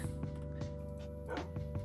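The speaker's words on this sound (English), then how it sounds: "now we got a brown dog" Minecraft dogs let out a few short, soft yips and barks over a steady background tone, spaced irregularly and fairly close.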